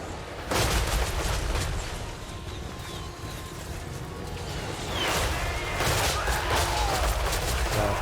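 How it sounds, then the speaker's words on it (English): Repeater bolt throwers fire in Total War: Warhammer 3 as High Elf troops fight marauders, producing rapid volleys of sharp impacts and crashes in two dense bursts over constant battle din. "regular Lothern Sea Guard, Ship Company, and repeater bolt throwers just scything through these marauders"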